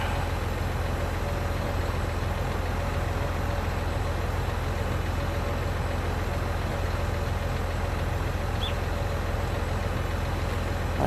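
A borrowed tractor in Farming Simulator 19 idles with a steady, low engine drone that stays unchanged and close throughout, with no talking.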